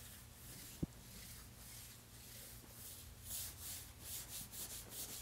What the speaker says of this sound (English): now I'm going to go ahead and do a little claying